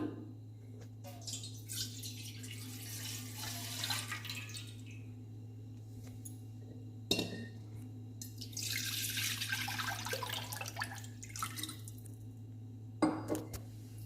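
Liquid pours into a pot in two separate runs, a trickling, splashing flow that stops and starts again over a low steady background hum, with small clinks in between.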